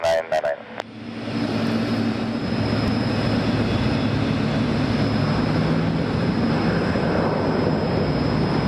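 A jet airliner takes off on runway 28 at Zurich Airport, its steady broadband engine roar swelling after a brief opening burst of radio chatter and holding loud and continuous to the end.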